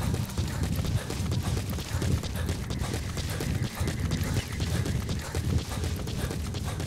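Horse hooves clip-clop steadily in Metal Gear Solid V: The Phantom Pain, a continuous galloping rhythm of dull thuds under a busy game ambience, fairly loud and unbroken throughout.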